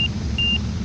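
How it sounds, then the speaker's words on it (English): Stall warning tone in a Wag Aero Super Cub during flight testing: a steady high beep sounding in short bursts over the constant low drone of the engine in the cockpit. "Angle of attack is going to change the pitch of the beep a little bit"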